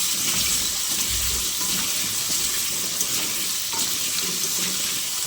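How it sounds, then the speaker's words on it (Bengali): Potatoes fry in oil in a home kitchen as a steady, close sizzling hiss that runs without pause, with faint low clatters from the pan underneath. "আলুগুলো আমরা একটু লাল লাল করে ভেজে নেবো ভালো।"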